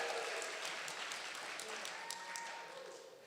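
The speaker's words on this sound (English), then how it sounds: "Give them a round of applause." Crowd applause with steady clapping from many hands, fairly faint and distant, tapering slightly toward the end.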